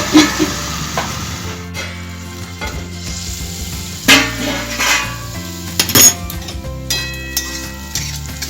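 Vegetables fry in a pan for homemade veg chowmein, a continuous sizzle broken by clinks and scrapes of a utensil stirring against the pan, close and moderately loud with no one speaking.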